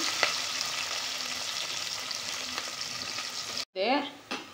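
Sliced onion frying in hot oil with mustard seeds and chilli for a Kerala-style fish sambar: a loud, steady, close sizzle that cuts out abruptly near the end, followed by a short burst of voice.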